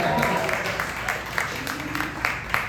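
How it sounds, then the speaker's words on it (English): Comedy-show audience in Washington DC clapping and applauding: steady, fairly close, moderately loud clapping with a host talking over it. "Come on, clap it up, clap it up, clap it"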